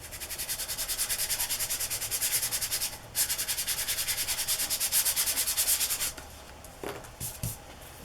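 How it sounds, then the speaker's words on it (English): Steady, rapid rasping of a small sanding tool working a surface, continuous for several seconds, pausing briefly, then a few quieter scrapes and knocks. "I don't know where I put that little sanding tool"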